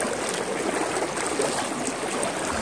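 Strong river current rushing and churning steadily, a dense, loud broadband water roar, close by and continuous, with no voices.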